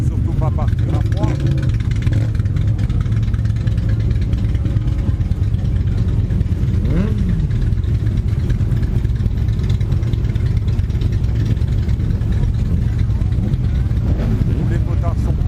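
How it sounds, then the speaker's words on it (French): Motorcycle engines idle and warm up before a group ride departs, giving a steady, loud mechanical rumble with a brief rev midway, while voices murmur underneath. "On fait chauffer un peu les moteurs, surtout pas partir à froid."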